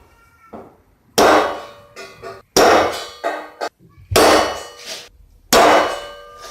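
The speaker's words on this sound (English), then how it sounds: "those are our center punches for the pilot holes" Sharp metallic clangs of a hammer striking a center punch, four loud main blows with lighter taps in between, each ringing briefly.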